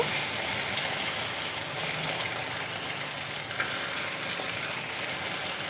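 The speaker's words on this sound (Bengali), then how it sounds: "টমেটোগুলো পেঁয়াজের সাথে ভালো করে ভেজে নেব" Chopped tomatoes and onions fry in a pan for a Bengali fish curry, giving a steady, even sizzle that holds without a break and carries no talk.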